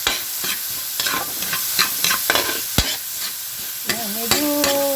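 Chinese sausage sautéing in a pan with a little oil for bihon, a steady sizzle broken by repeated spatula scrapes and stirring knocks, with a few clinks of metal near the end.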